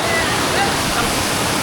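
Kondeshwar waterfall at Kamshet in the monsoon sends up a steady, loud roar of rushing water that fills the whole moment without a break.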